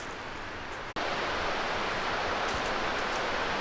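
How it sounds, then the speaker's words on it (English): Steady broadband rush of a waterfall at Amicalola Falls, heard from near the end of a forest trail in autumn, continuous and fairly loud with a brief dropout early on. "I can clearly hear the waterfall"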